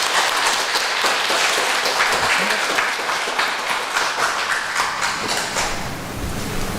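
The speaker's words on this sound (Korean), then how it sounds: "저 이분들 위해서 큰 박수." A large congregation applauds steadily during a Catholic Mass in a church, a dense wash of clapping that holds for several seconds and eases slightly toward the end.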